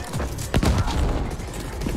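Rapid bursts of gunfire from the video game The Ascent, harsh dense crackling shots that swell partway through and keep going steadily, loud and close.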